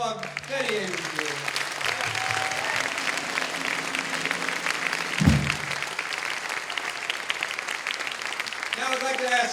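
An audience at a gallery performance applauds a singer with sustained clapping. Background voices and some tonal sound run beneath it, and a brief low thump lands midway.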